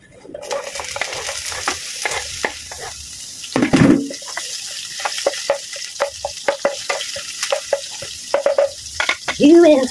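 Bitter gourd (ampalaya) rinsed under running tap water in a kitchen sink, with splashing, clattering handling noises and a brief louder gush, close up, broken by short bits of talk.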